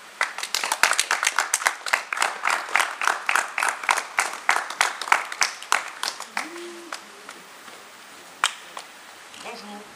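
A small cabaret audience claps for an arriving poet, a quick run of individual, close hand claps that slows and thins toward the end, with a brief murmur of voices.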